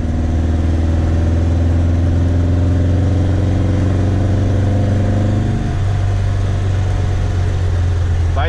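A Volkswagen Beetle (Fusca) with a tuned carburettor pulls hard in third gear, its air-cooled engine droning loud and close in a steady buzzing tone that shifts pitch slightly near the end, with a voice partly audible over it.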